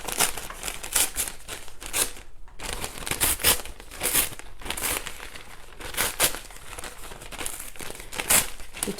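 Decoupage paper being ripped and crinkled off a thrifted wooden chest, a close, continuous run of papery tearing and crumpling bursts in an irregular rhythm with no voices.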